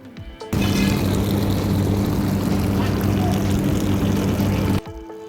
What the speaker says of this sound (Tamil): ஆன் பண்ண உடனே உள்ளே இருந்த வேஸ்ட் வாட்டர் நல்லா ப்ரெஷராக வருது.